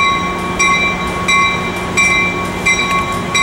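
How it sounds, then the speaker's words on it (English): The Pacific Surfliner 6904 passenger train rolls past close by at San Diego's Santa Fe Depot, a steady rumble with rhythmic clacking of wheels over rail joints and a sustained high metallic whine. "Here comes the Surfliner 6904 leaving out of Old Town."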